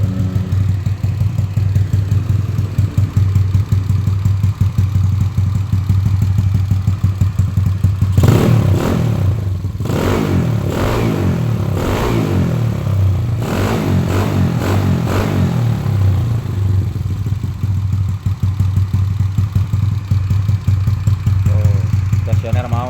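A carbureted Honda Beat motorcycle engine idles close by with a steady, loud putter, getting a few blips of throttle partway through while someone talks briefly.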